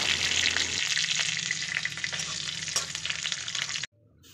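Cashews and raisins sizzle in a little hot ghee in a kadai while being stirred, a dense continuous crackling hiss with faint scraping, close and loud, then cutting off abruptly near the end without any talk.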